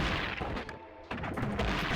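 A loud explosion in the video game Gato Roboto: a dense, crunchy burst of noise, a short gap, then another rough blast of retro-style game noise.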